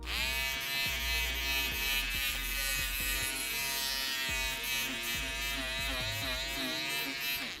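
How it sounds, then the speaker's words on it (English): An electric shaver buzzes steadily and loudly as it shaves a puppet in a workshop, a continuous harmonic drone with small shifts in pitch as it presses and moves across the material. "Why, yes, I am shaving a puppet."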